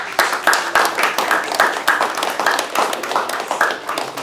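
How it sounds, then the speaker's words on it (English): Audience members clap in a round of applause, the sound coming as close, fairly loud and slightly uneven rhythmic bursts, more like a smaller group clapping together than a large roaring crowd. "every one of you deserves a round of applause again"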